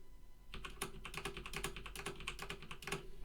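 Computer keyboard keys tapped in a quick irregular run to move through a Windows 10 menu, crisp close clicks with no talking.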